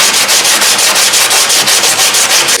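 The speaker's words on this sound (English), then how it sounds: "start sanding down the backside just a little bit, not too much" Rapid back-and-forth sanding strokes rasp loudly and evenly across the backside of a Nissan 370Z part being prepped for fiberglass, a rhythmic scrubbing with no voices.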